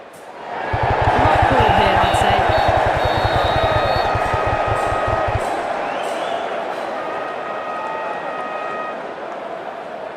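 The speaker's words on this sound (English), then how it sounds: "it's a loud crowd as the players make their way out" Loud stadium crowd roaring steadily as players walk out at an IPL cricket match, Rajasthan Royals versus Lucknow Super Giants, with a rapid thumping beat under the noise for the first few seconds, then sustained crowd din.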